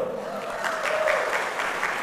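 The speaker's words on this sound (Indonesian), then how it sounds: "Tepuk tangan dulu" A church congregation claps together in a brief, steady round of applause inside the church, with a faint sustained tone running underneath.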